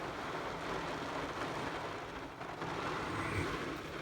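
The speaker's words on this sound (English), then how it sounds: "Well, it's been raining for about 15 minutes now." Steady rain falls on a parked truck during a storm blowing in from the south, heard from inside the cab as a continuous, even hiss and patter with no talking.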